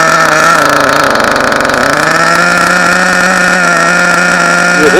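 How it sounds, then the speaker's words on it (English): HPI nitro 4.1 RC engine running loud and steady, a buzzing two-stroke whine that dips briefly and then holds at a high idle throughout, close to the microphone with no talking. "Yeah, this engine's pretty decent."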